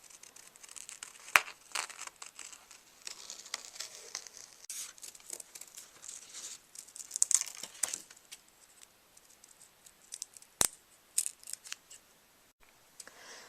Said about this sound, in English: what you want to do is cut out a horseshoe shape out of the silver. Just take your scissors